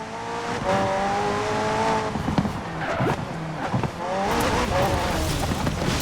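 A McLaren P1 GTR supercar with a twin-turbo V8 and electric motor racing in Forza Horizon 4, its engine loudly revving up and shifting with tire squeal and skids, while a voice speaks over it.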